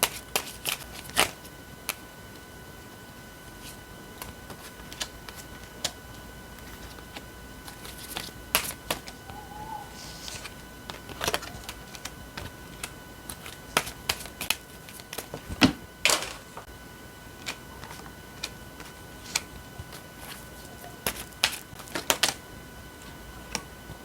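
Tarot cards shuffled and drawn during a Korean tarot reading, heard as scattered crisp slaps and riffles at close range over a quiet background, coming in irregular bursts with no voice present.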